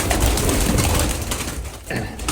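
A pigeon coos up close amid loud rustling and handling noise.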